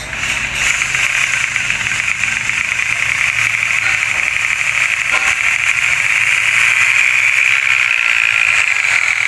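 The 1.3-litre engine of a Toyota Avanza runs on a test after an oil pump repair, a loud, steady mechanical drone with a high whining tone and a light rattle throughout.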